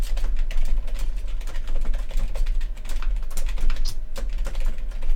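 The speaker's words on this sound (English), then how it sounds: "You hear that typing?" Fast, steady clatter of keys on a computer keyboard, close and crisp, with dense rapid strokes continuing throughout.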